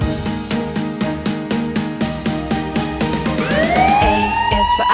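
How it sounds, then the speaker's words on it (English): Police car siren in a children's vehicle song, a loud rhythmic electronic wail with regular pulses that shift into a rising and falling sweep, mixed with music. "Police car."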